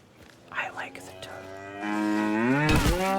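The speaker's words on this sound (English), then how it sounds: "Fucking cow giving me away." A cow moos inside a video game, a long drawn-out low call with rich harmonics that swells loud near the end, heard after a few faint vocal sounds at the start.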